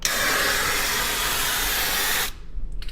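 Turbo spray can from Menards blasting satin black paint onto a rusted Ford F100 truck bed, a loud continuous close hiss for about two seconds that cuts off abruptly, followed by faint handling noises.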